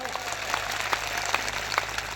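A crowd at an open-air public rally in Khedbrahma, Gujarat claps for police officers, a steady moderate patter of applause with a few sharper claps rising above it.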